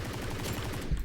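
Rapid rifle fire from the video game BRM5, a dense, loud burst of repeated shots with heavy low thumps running steadily for about a second, ending in a sharper final report.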